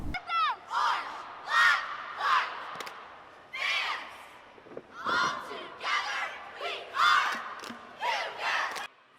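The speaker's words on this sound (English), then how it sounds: "and a crowd leading cheer" A cheer squad leads a crowd cheer at a school event, with loud rhythmic group shouts in repeated bursts, voices carrying across a large space.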